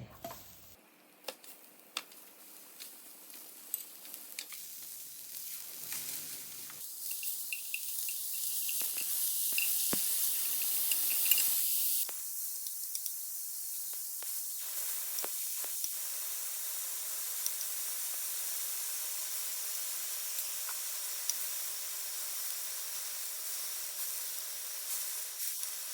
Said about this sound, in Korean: 새송이를 구워볼게요.